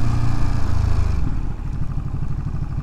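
A Ducati motorcycle engine runs close by, a steady low rumble with a rhythmic, pulsing chug in the second half.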